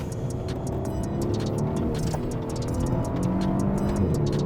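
Maserati Quattroporte S Q4 Italian luxury sedan with all-wheel drive accelerating hard on the road, its engine droning loud and steady from inside the car with a continuous roar and road noise, no talk.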